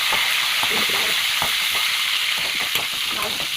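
Coriander seeds, fenugreek and cumin fry in a pan, a loud, steady close-up sizzle with rapid crackles and intermittent stirring scrapes.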